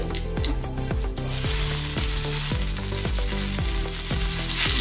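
Ginger, chili and sambar paste frying with cumin and asafoetida give off a loud, continuous sizzle. A spoon strikes the pan in a regular series of knocks throughout, close up and without speech.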